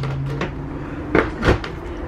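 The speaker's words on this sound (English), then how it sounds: "I don't like the accordion door" An accordion door in the shower of a 2020 Airstream trailer is worked by hand, giving two soft clacks and rustles close by over a steady background hum.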